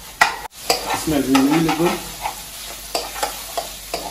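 Chicken chop suey frying and being stirred in a pan, with clattering stirring strokes over a steady sizzle; a person speaks briefly over the cooking.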